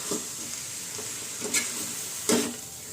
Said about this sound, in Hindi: अब इसको हाई फ्लेम पे 2 से 3 मिनट के लिए अच्छी तरह से भून लीजिए।